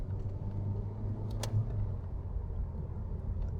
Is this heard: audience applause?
no